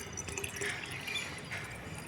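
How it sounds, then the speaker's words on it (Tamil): A soft, continuous trickle of liquid pouring into water, quiet and steady for a couple of seconds. "இதை 3/4 லிட்டர் உள்ள தண்ணியில் ஊற்றுறோம்"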